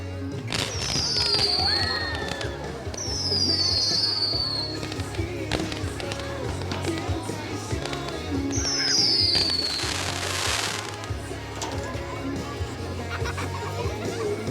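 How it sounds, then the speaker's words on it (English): A 100-shot Sky Shooter fan cake firework fires a rapid run of shots, with rising whistling tails and crackling bursts over steady background noise, loud and continuous through the stretch. "Next is going to be the 100 Sky Shooter. Has 100 shots, little fan cake."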